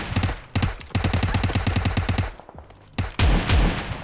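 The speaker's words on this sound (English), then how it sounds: "I'm being shot by someone else." Rapid automatic gunfire from a PUBG Mobile match, loud bursts of evenly spaced shots followed by a brief pause and then heavy, booming shots up close.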